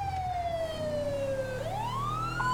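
Police siren in a law-enforcement roleplay video game, wailing with a steady falling pitch that sweeps back upward, loud and close over a low engine rumble, with no voices.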